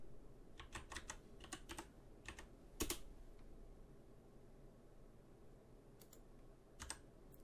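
Bursts of key clatter on a computer keyboard as a discount code is typed into an online checkout, quick uneven clusters of taps separated by short pauses, faint and close over a low room hum.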